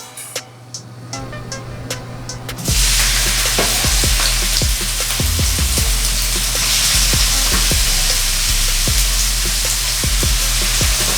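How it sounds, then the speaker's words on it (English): Sausage dropped into a hot pan bursts into a loud, dense sizzle after a couple of seconds of quieter clicks, then keeps frying steadily with occasional knocks and scrapes, close and with no talking. "Looks like our pan is hot. Want to add this sausage to it."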